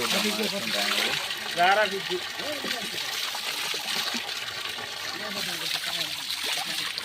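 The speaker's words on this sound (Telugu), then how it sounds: "లోపల ఇట్లా బండలు ఏర్ల నుంచి వెళ్ళి వాటర్ వస్తున్నాయి" Water trickles and splashes steadily nearby, flowing out from between rocks, a bubbling flow running throughout, with people talking over it.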